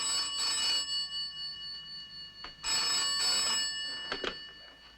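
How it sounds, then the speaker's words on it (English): An old telephone bell rings in two long electric trills with a short gap between them, close and clear, followed by a brief partial ring, in a quiet room. "Answer the phone, Jeff."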